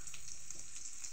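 Boiled snails fry quietly in a pan with a soft, steady sizzle and faint crackle, with no voices.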